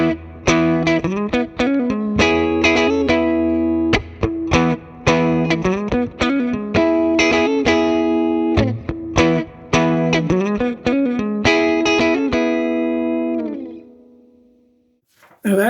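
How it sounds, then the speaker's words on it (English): Electric guitar through distortion with the volume knob rolled back to 7, a riff of chords and single notes played close for about thirteen seconds, then fading out to near silence. "Now, watch what happens when I roll it back to 7."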